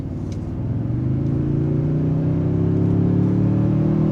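A 2024 Toyota Tundra Platinum's V6 engine pulls hard while accelerating onto an interstate, a loud, close, steady low growl that rises gradually in pitch as the truck gains speed, alone without talk.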